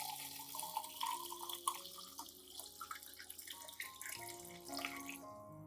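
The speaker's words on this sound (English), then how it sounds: "Add 500 milliliters of clean water." About 500 ml of water pours and trickles into a glass cup holding rice, a continuous splashing flow with a rising ringing tone as it fills, close up and fairly quiet.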